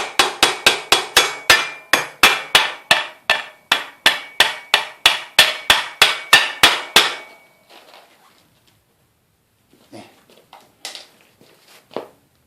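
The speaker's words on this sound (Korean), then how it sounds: "일반 망치는 흠집을 내기 때문에 우레탄 망치 같은 걸로" A urethane mallet taps a crank arm onto a folding minivelo bike: about twenty quick, sharp knocks in a steady rhythm, then a few faint scuffs and light handling clicks.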